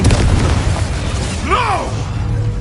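Confringo blasting spell explosion in Hogwarts Legacy: a loud booming burst with rolling rumble underneath, joined midway by a short swooping whistle-like sweep, all fairly close.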